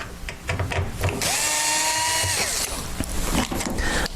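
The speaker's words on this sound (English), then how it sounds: "There's 5 screws on each side that we need to remove." A power drill backs screws out of the side panel of an upturned heater, giving a sustained whirring spin with a rising and falling pitch. Shorter clicks and handling knocks come before and after, close up.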